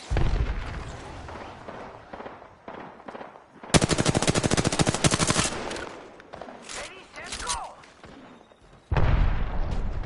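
Automatic weapon fire in the Apex Legends video game: a sustained rapid burst of shots in the middle, with scattered single cracks and game effects around it and a further burst at the end.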